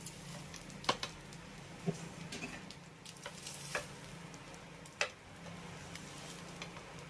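A leftover rice and soybean mixture sizzles on a tawa with a quiet, steady frying hiss, broken by a few sharp utensil clicks and taps.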